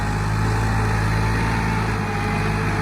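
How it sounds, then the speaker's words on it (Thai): A farm tractor engine runs close by at a work site, making a loud, steady drone without a break. "เทปุ๊บต้องเอารถไถมาเกียหน้างาน เอารถไถมารอหน้างานเลย"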